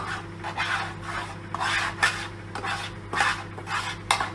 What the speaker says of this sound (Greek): κάρι και αλεύρι. Ανακατεύω εδώ.